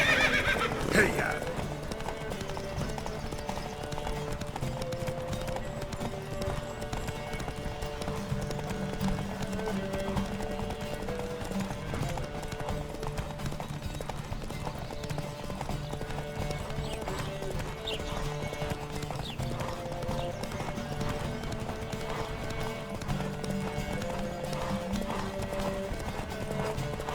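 Horses galloping in a race in The Witcher 3 at a steady, rapid pace with continuous hoofbeats, an occasional whinny, and music playing underneath throughout.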